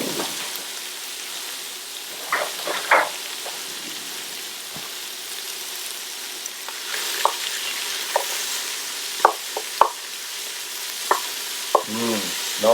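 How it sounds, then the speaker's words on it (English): Bacon frying in a pot as the base for bean and ham soup: a steady soft sizzle broken by occasional sharp pops and spatters, and a few stirring scrapes near the end. "Add in our bacon. Fat from the bacon will help add a lot of flavor."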